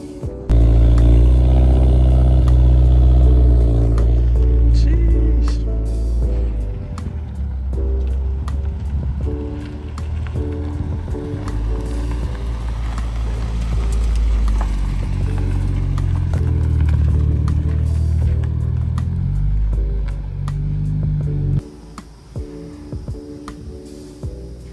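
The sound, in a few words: car engine revving on a dyno during tuning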